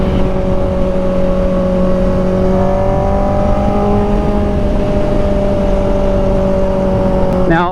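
A Kawasaki ZX-4RR motorcycle engine pulls hard in a quick acceleration, a steady high-pitched whine rising gradually in pitch under heavy wind rush.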